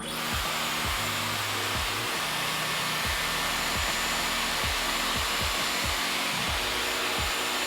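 A Dyson Airwrap hair styler blows hot air with a steady loud whoosh and a rhythmic motor pulsing underneath.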